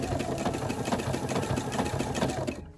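A sewing machine runs steadily, stitching down binding on a quilt with a fast, even mechanical whir and rapid needle ticks, close and continuous before tapering off at the end.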